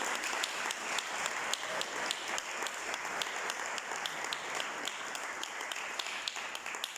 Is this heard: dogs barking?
no